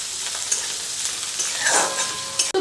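Bitter gourd seeds and peels fry in oil in a pan, giving a constant close sizzle with a few stirring scrapes and a clink near the end.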